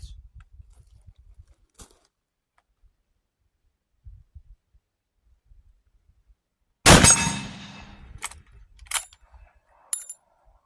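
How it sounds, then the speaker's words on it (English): A Winchester 1886 rifle chambered in 45-90 fires a single loud, sharp shot at a shooting range. The report has a long, ringing tail, followed by a few clanks; soft thumps come before the shot. "I just like shooting this gun too"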